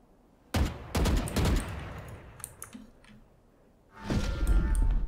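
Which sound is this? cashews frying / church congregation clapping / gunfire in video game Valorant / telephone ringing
gunfire in video game Valorant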